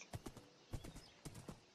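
Hooves of a horse clip-clopping in Minecraft, a quick uneven run of close, soft clops in small clusters, faint and alone without talk.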